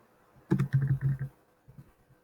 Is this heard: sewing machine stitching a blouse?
no